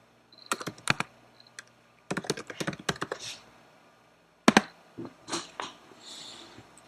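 Keys clatter on a computer keyboard as a username and password are typed into a WordPress login screen, in three quick bursts of close, crisp tapping separated by short pauses.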